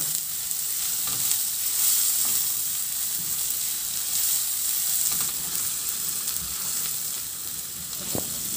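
Onions frying in a pan for a pork ribs dish, a steady close sizzle with occasional scrapes and clinks from stirring, no voices.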